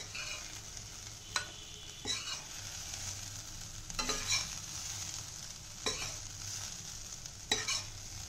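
Vegetables for a paneer paratha filling sizzle steadily in a pan, with a spatula scraping and stirring them every second or two, close and moderately loud, with no talking.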